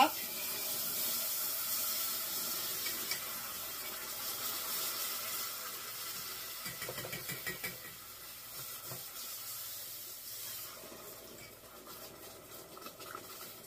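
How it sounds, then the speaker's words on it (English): Broth pouring steadily into a pot with a soft, continuous splashing wash, fairly quiet, followed by some stirring and sizzle-like noise, while making enchilada sauce. "Then we're going to slowly pour in the 6 cups of"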